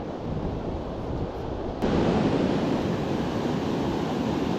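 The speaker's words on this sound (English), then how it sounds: "More of a waterfall coming out of it, down into it," Steady close roar of a waterfall pouring down into a river pool on a trout stream in Oregon, broadband rushing water with wind buffeting the microphone, growing louder partway through.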